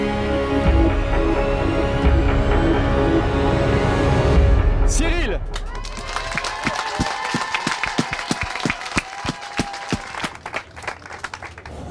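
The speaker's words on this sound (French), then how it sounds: "Merci d'applaudir" A studio audience on a French cooking-competition show applauds a finalist chef after a host calls out a name, the clapping building into a sustained round with individual claps distinct, following music and talk.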